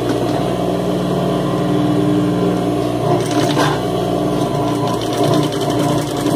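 Sewing machine running steadily while stitching a garment seam during a clothing alteration, a continuous close mechanical whir with a rapid needle rhythm that holds level throughout, no speech over it.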